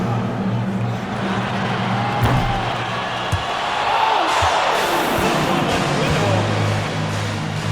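Arena crowd noise from an NBA 2K25 game during a fan half-court shot, a steady roar of cheering with a few sharp thumps, continuous and fairly loud throughout.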